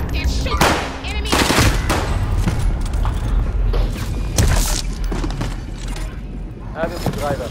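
Call of Duty: Modern Warfare quads match gunfire: loud, repeated bursts of automatic weapons and single heavy shots close by, with thuds and booms layered in and game voices talking between them.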